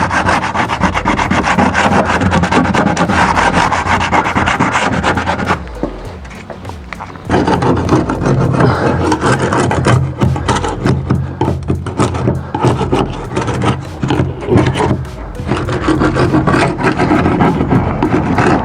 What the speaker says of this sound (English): give it a good sand